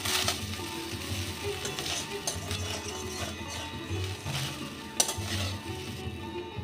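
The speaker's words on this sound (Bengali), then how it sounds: "খুব আলতো হাতে ভাতটাকে নেড়ে নেব" Cooled cooked rice gently stirred with fried carrots and beans in a frying pan for vegetarian fried rice, a steady soft sizzle with scraping and light clinks of the spatula, no talking.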